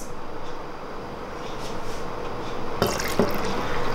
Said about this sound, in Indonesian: Lalu dimasukkan bahan cairnya, yaitu telur